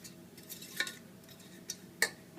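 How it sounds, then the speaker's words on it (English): A spoon stirring a warm paleo granola mixture in a pot off the heat, faint scraping with a few soft clinks of utensil against metal, quiet and close. "make sure it's all stirred in"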